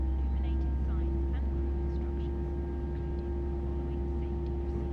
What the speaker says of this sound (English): Hear the hydraulics kicking in.